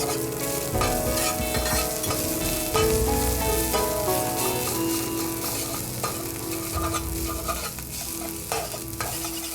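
Oats mixture being stirred in oil in a frying pan over low heat, a steady close sizzle and frying hiss with scraping stirring strokes running throughout, no voices.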